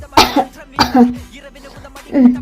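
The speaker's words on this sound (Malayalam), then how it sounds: "മഴ കൊണ്ടെന്ന് പറഞ്ഞപ്പോഴേ ഞാൻ വിചാരിച്ചു ചുമയും പിടിച്ചിരിക്കുന്നു" A few harsh, close coughs in quick succession, with a short pause before the last one.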